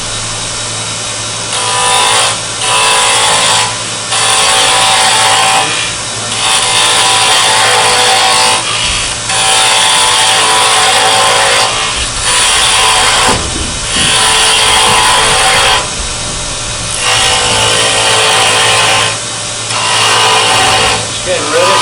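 A spindle gouge cuts into spinning wood on a lathe, a loud steady whirring scrape that surges and eases in repeated passes over a constant motor hum, with no talking.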